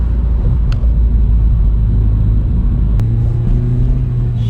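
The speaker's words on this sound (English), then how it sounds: "I'm giving gentle gas, wait for the car to pick up some speed." A manual transmission car accelerating gently in third gear before merging with traffic, a steady low engine rumble with a rising drone heard from inside the cabin, plus a couple of faint clicks.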